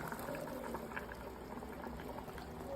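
Prawn curry bubbles away in a pan, a steady, close simmer of liquid with continuous soft popping and no voices over it.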